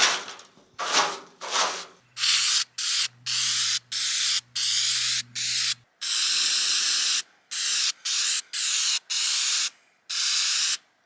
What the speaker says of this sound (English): I think I'll spray all the seriously rusty spots in any place I'm sure there's a hole.